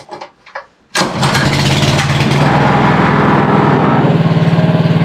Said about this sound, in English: Michael's going to start the engine now.